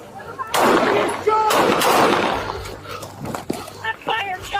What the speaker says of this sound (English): Shot fired! Shot fired!